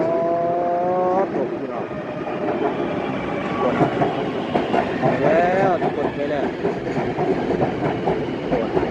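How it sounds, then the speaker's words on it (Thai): A skytrain pulls into a station in Thailand, a loud rolling rail rumble with clattering wheels and a rising electric whine, steady throughout with someone talking over it. "รถไฟฟ้าเข้ามาอีกแล้วพี่น้องเอ้ยมาแล้วมาแล้ว"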